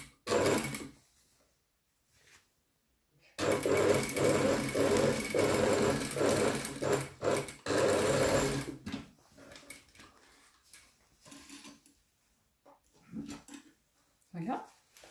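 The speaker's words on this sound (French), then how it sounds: "Et ma deuxième couture, je la fais à l'envers à 5 mm." A domestic sewing machine sews the second pass of a French seam on the wrong side at 5 mm. It runs in short loud bursts, close by, with pauses and fabric handling between them.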